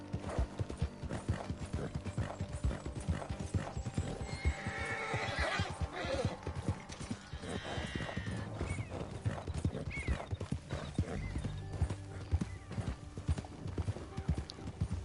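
Video game horse with steady clip-clopping hooves and a neigh or whinny, riding along alongside mechanical rattling, with a voice talking softly underneath.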